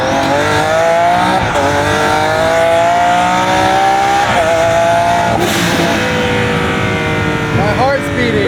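Twin-turbo Lamborghini Aventador engine revving loud and close, with repeated climbing and falling rev sweeps over a constant heavy roar, sharp throttle blips near the middle and end.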